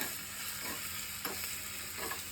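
Crushed garlic fries in oil, a faint, steady sizzle with a few soft clinks of stirring, close and quiet, with no voices.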